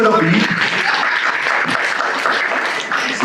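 Audience applause fills a panel event at an art museum, a dense, steady wash of clapping from a crowd that carries on at full level for the whole span, with no voices standing out above it.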